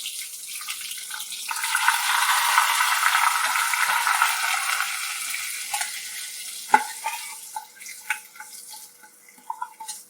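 Curry leaves and dried chillies hit hot oil for a farali handvo tempering, giving a loud, steady sizzle for about six seconds before it fades into scattered clinks and light pops.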